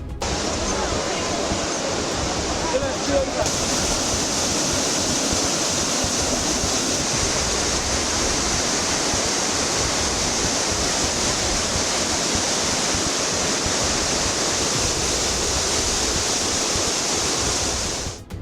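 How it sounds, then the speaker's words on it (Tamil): Floodwater from the Courtallam waterfalls, swollen by heavy rain, roars in a steady, loud, unbroken wash that fills the whole stretch without pause. "பாதுகாப்பு வளைவை தாண்டி முதல் நடைபாலம் வரையிலும் தண்ணீர் ஆர்ப்பரித்து கொட்டியது"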